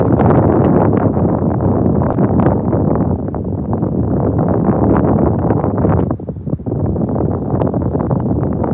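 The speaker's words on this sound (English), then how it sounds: "Because it's windy." Strong wind buffets the microphone in a loud, constant rumbling roar that briefly eases before returning, outdoors near a SpaceX Starship SN20 site.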